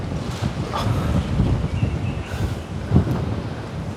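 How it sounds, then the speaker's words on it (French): A strong gust of wind buffets the microphone outdoors, a steady broadband roar with swelling peaks near the start and around three seconds, no voices. "Grosse brise de vent qui vient d'arriver."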